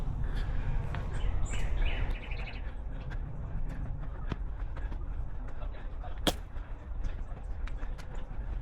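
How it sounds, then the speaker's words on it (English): Birds chirp indoors with a few high tweets over a steady background hum, mostly early on, and no clear talking. "Look at the birds in here, guys."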